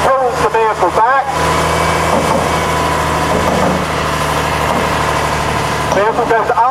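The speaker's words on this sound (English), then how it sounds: "First he picks up the front of the flat rack, which effectively pulls the vehicle back." Military truck engine running at a military vehicle show in England while loading a flat rack, a steady rumbling idle that holds throughout, with brief voices at the start and end.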